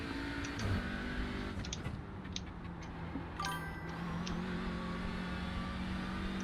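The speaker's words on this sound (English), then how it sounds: "These are an Audi TCR car." An Audi TCR front-wheel-drive touring race car runs at Brands Hatch GP in iRacing, its engine a continuous steady drone with rising and falling revs and short gearshift blips, close and fairly loud.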